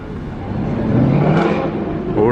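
A Lamborghini Aventador SVJ revs loudly nearby, its engine building to a heavy, rising rumble that holds steady before a brief lift near the end.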